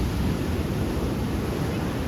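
Rough, stormy sea with heavy waves crashing along the Gujarat coast, a dense continuous roar of surf mixed with wind buffeting the microphone, loud and steady throughout.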